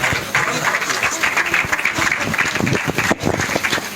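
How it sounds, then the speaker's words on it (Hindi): Audience applause at an award ceremony in Noida, a steady dense clapping that fills the space for a few seconds, loud and continuous with a brief dip near the end. "एक बार जोरदार तालियां दोबारा"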